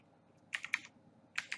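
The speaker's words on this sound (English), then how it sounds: "Otherwise, if it doesn't, then just type manually." A command such as an nmap scan is typed on a computer keyboard, two short bursts of close, quick keystrokes with a brief pause between them, no talking.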